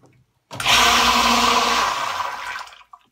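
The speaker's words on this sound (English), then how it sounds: "My submersible pump works" Submersible pump switching on during a test, a loud whirring, watery churn that runs for about two seconds, then fades and cuts off.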